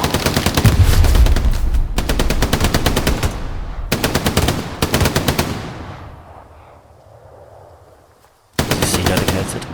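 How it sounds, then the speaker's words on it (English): Machine gun fire in the Hell Let Loose World War II shooter game: several long, loud, rapid bursts separated by short pauses, one burst trailing into a fading echo before a final burst breaks in. "He got him good there with the MG"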